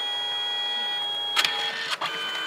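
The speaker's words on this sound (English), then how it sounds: "the printer paper does come out of the back. So it goes in the first time and it covers it in the yellow ink" A Canon Selphy CP910 photo printer hums steadily as it feeds paper through, with two short mechanical whirs and clicks near the middle and a brief pause before the hum resumes.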